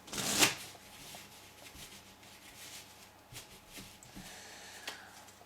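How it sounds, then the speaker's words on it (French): Playing cards shuffled by a close-up magician with a normal deck: a sharp riffle burst near the start, then softer card handling and light shuffling noises continuing quietly, no talking. "On mélange."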